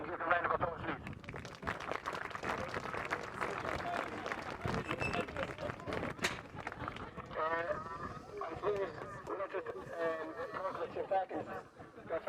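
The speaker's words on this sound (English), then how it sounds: "So can I give a round of applause, please?" Crowd applause after the 2020 Louth Senior Hurling Final between Knockbridge and St. Fechins: sustained, dense clapping mixed with voices from the gathering, running throughout.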